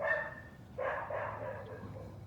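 A dog barks and whines a couple of times at moderate distance, short yips with a quieter stretch after; no speech.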